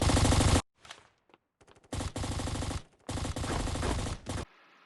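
Rapid automatic rifle fire in a Roblox-style cops-and-robbers video game: loud, dense bursts of repeated shots with short gaps between them, followed by a fading tail.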